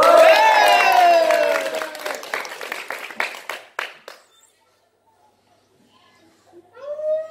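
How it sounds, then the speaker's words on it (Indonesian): A school audience at a Mahalabiu event at SMAN 1 Sungai Tabuk gives a short burst of scattered claps after singing, the claps thinning out and fading to quiet before a voice returns. "Tepuk tangan buat Nadela."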